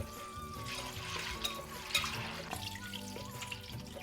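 Running water poured over chana dal being rinsed for crispy kadalai vadai, a steady close splashing and trickling from a tap that carries on throughout with small drips and swirls.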